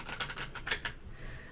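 Large Lenormand cards being shuffled by hand, a quick run of crisp riffling snaps and flutters over about a second, close and fairly quiet, then fading into soft room hiss with no talking.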